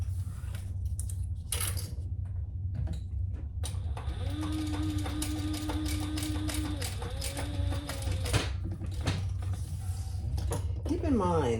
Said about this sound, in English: And we're going to sew along this edge.